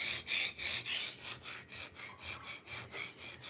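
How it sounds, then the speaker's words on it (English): A knife blade is drawn back and forth across a diamond sharpening stone, giving a close, rhythmic rasping with about a dozen even strokes that gradually soften. "I just go forward and backwards to create the burr"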